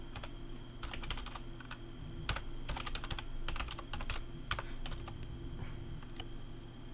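Close, quick tapping on a computer keyboard while someone types a chat message in the ARMA III game, arriving in irregular bursts of keystrokes over a low steady hum.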